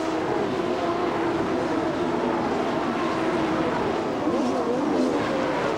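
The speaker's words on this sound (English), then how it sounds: "As they come through the hairpin, there's Paul Tracy, car 3" CART Indy race cars roar through the hairpin at the 1994 Vancouver street race, a dense continuous engine drone with shifting pitch as cars pass close by, loud and steady throughout.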